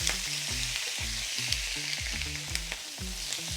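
A pork loin steak fries in a pan with a continuous sizzle and crackle, joined by a repeating rhythmic pattern of knocks or pulses through most of the stretch, with no talking.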